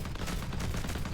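A repeater cannon fires at enemy ships in the space game Between the Stars, a rapid dense burst of blasts packed into a second with a heavy low rumble.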